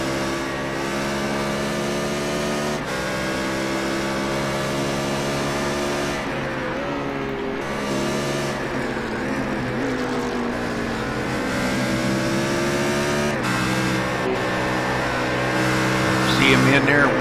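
A BMW race car engine roars loudly with a sustained, shifting harmonic drone that rises and falls as it drives past, heard under steady voices.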